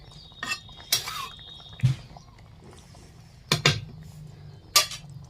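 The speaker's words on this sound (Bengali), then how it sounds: "দেখবেন এখন যে ঢাকনাটা উঠে নিলাম।" A metal pot lid is lifted off chicken curry simmering with poultry drumsticks, giving a few sharp clinks and clanks spread across a quiet kitchen background with faint bubbling.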